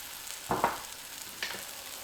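Breakfast vegetables cooking in a pan before spinach goes in, a low steady sizzle with two brief stirring scrapes, fairly quiet and without talk.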